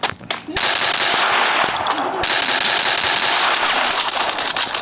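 Rapid automatic gunfire in a battle royale game, loud bursts of rattling shots nearly continuous after a short pause, with brief voices of players talking.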